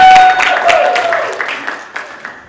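Conference audience at an animal rights national conference clapping, a burst of applause that starts loud and tapers off into scattered claps, with a brief ringing tone at the start.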